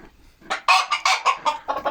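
Bantam chickens, including Silver Laced Bantam Wyandottes, cluck in a coop, a quick run of loud, close, rhythmic clucks following a quiet moment.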